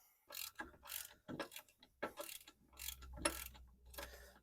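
A socket ratchet clicks in short bursts of pawl ticks while loosening a vehicle axle bolt, about half a dozen quiet, close bursts separated by brief pauses.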